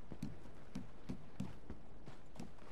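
Horse hooves clip-clop at a steady walking rhythm in Red Dead Online, soft, fairly distant hits spaced about a third of a second apart over a quiet background.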